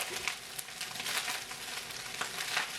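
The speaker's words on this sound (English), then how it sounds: "I love when my fried rice fry a bit." Chicken fried rice fries in a pan with a steady close hiss and crackle, broken by brief louder sizzling bursts as it is stirred, with no talk.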